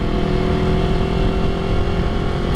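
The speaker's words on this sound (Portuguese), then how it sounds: "Não dava pra ouvir aquele ronco legal assim da moto." A motorcycle's exhaust roars loudly and steadily throughout, a harsh, blown-out engine drone with no pauses.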